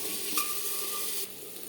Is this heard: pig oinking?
no